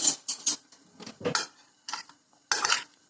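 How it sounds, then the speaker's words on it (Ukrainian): Salad vegetables are tossed in a bowl with a utensil, giving a series of quiet, close clinks and scraping rustles in irregular bursts separated by short pauses, with no one speaking. "Тепер нам це все треба перемішати,"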